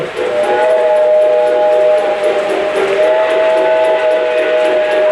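A loud Reading tank engine steam locomotive whistle holds one steady, sustained tone for several seconds, backed by hissing steam.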